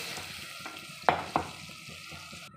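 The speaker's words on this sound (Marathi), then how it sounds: "हे बघा एवढं पाणी टाकलं मी" Water splashes into ground masala frying with asafoetida and turmeric for horse gram shengole, giving two sharp hissing bursts over a steady low sizzle, with no talking.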